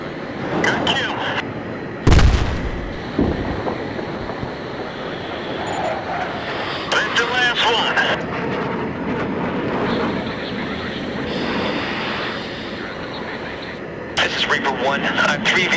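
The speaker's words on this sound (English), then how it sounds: "Reaper 1, you got another fighter turning onto the runway now" Fighter jet engine noise rolling on a runway in Battlefield 3, a steady roar with bursts of gunfire-like impacts and radio chatter over it.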